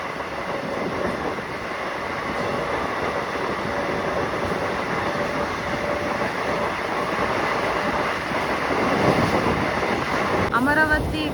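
A DEMU train runs from Ballari toward Davanagere with a steady rumbling roar and rattle, heard from on board with wind buffeting throughout and a brief sharper screech near the end.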